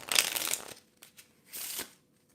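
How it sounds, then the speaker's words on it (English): A deck of playing cards is shuffled while a magic card trick is practiced: two quick, close riffling bursts, the first longer and louder, with a few soft taps between them. "You can shuffle the cards"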